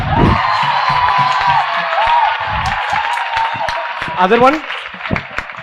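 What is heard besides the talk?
students clapping and cheering in a classroom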